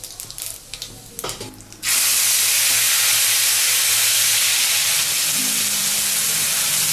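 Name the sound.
whole spices (cinnamon, clove, cardamom, cumin) sizzling in oil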